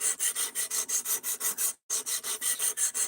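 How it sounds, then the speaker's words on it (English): A knife blade is drawn across the stone of a guided sharpening system in a quick, even series of bright rasping strokes, about a dozen, with one brief pause partway through, close and clear with no talk. "a system like this will let you sharpen a knife without having to worry about learning how to use a whetstone"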